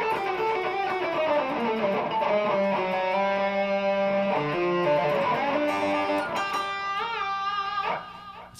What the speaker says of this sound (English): this is the sound of this guitar on the treble pickup right now